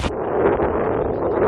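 Strong typhoon wind with rain battering Boracay in Malay, Aklan, a steady roaring rush that fills the whole stretch without a break and buffets the microphone, with no voices.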